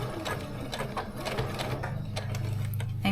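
A sewing machine runs steadily, stitching a scrunchie seam with a dense, continuous mechanical whir. It is close and fairly loud, with a backstitch and no talking.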